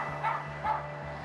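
A dog left alone in a locked, empty shop gives two short, muffled barks or yips at a steady interval, heard from behind a closed door over a low steady hum.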